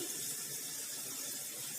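Steady running water splashes continuously into a pan of roasted spice masala, a soft broadband hiss with no voices, close by and even in level throughout.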